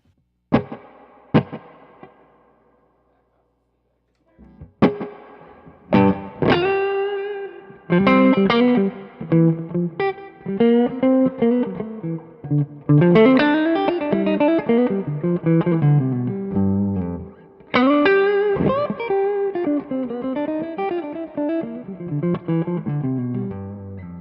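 Electric guitar played through delay and reverb pedals, a few isolated plucked notes and then a flowing melodic phrase with chords, every note trailing into soft echoes and a lingering wash of reverb, loud and up close.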